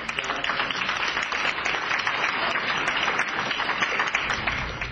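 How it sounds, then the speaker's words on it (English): An audience applauds with dense, even clapping that holds at a steady level for the full five seconds before easing slightly at the close. "nice round of applause for it"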